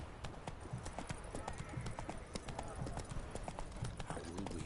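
Hooves of Roach the horse trotting in The Witcher 3: Hearts of Stone, a quick, even clip-clop rhythm close up and moderately quiet, repeating steadily throughout.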